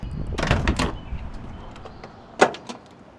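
Door of a 1967 Chevy Chevelle SS L78 being handled, a cluster of close mechanical clunks and rattles, then a quieter stretch and a sharp click or latch a moment later, with no talking.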